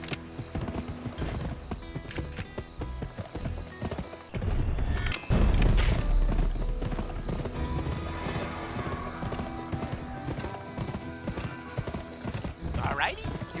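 Horse hooves clip-clop steadily while riding in the video game GUN, a Western action game, with a brief louder burst partway through and spoken lines from characters over the rhythmic gait.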